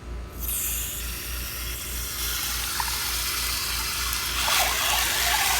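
Water rushes steadily through a partly opened backflow preventer valve with its shutoff cracked, a close, constant hiss that swells louder near the end.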